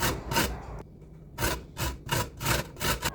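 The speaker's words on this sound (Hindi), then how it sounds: "उमामा को मैंने कहा कि तुम जो है वो कैरेट्स जो है वो थोड़ा मुझे ग्रेट कर दो" Rhythmic rasping strokes of carrots scraped against a grater, in quick bursts with a short pause, close and fairly quiet.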